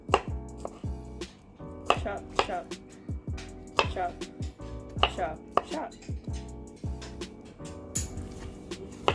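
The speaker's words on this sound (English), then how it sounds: "I'm going to try to make dices or small chops" A knife chops plantain into small dice on a cutting board, giving a series of sharp, uneven close-up knocks with brief pauses between bursts.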